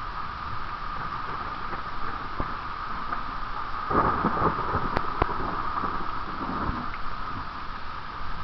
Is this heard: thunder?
yes